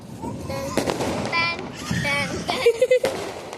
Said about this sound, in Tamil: இப்போ சச்சின் வெடிக்க போறாங்க